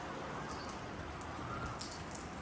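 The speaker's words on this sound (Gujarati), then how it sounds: "અને હજુ બી વરસાદ ચાલુ જ છે ગાઈઝ." Steady light rain patters softly and continuously, a quiet even hiss of drops with no voices, falling outdoors near a sparrow birdhouse.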